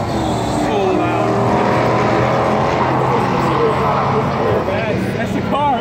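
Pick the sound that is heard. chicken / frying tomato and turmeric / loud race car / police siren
loud race car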